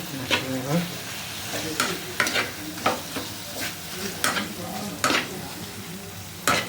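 Jaggery is stirred in a pan for Bengali Poush Sankranti pitha, with a continuous soft sizzle broken by repeated scrapes and clinks of a utensil against the pan, close and fairly loud.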